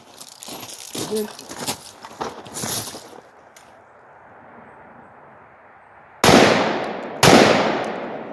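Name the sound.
rifle shots fired at long-range targets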